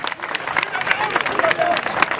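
At a 26 March commemoration in Ouéléssébougou, Mali, a crowd applauds the French ambassador, uneven clapping and babble rising and falling under a loud announcer's voice.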